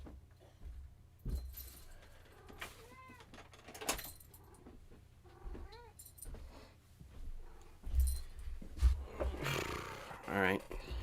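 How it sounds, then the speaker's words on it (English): A cat meows a few times, short and fairly faint, amid quiet room noises and occasional thumps. "I have to go get my cat. It is meowing."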